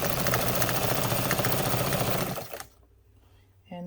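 A Necchi Mira BU sewing machine runs a straight stitch with a loud, rapid mechanical chatter that stops abruptly, leaving near-silence before a brief voice.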